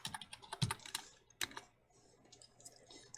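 Keystrokes on a computer keyboard entering a WiFi password, a short burst of quick clicks, then a pause and a few more scattered taps, close and fairly quiet.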